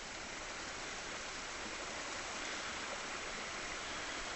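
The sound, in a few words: little river flowing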